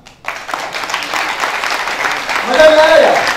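Audience applause at a business leadership seminar, a dense steady clatter of many hands lasting throughout, swelling slightly toward the end with some cheering or whistling mixed in.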